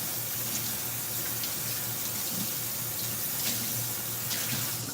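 Tap water runs steadily into a kitchen sink while chicken is rinsed, a constant close splashing rush throughout with no talk.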